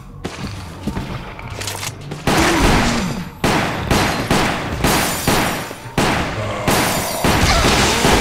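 Gunfire in the survival-horror shooter Resident Evil: The Umbrella Chronicles: loud, dense bursts of rapid shots and crashing impacts in repeated waves, each volley cut by short pauses.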